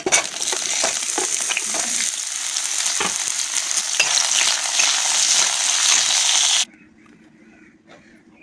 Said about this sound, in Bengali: তারপর আলু ভেজে নেব।